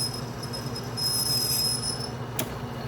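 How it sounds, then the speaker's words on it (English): A lathe cutting internal square threads gives off thin high-pitched squeals over a steady machine hum, with a sharp scrape near the end. "there's some nice squealing"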